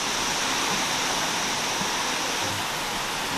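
Steady, broadband rushing of the Kuang Si waterfall near Luang Prabang, Laos, a constant hiss of falling water with no voices.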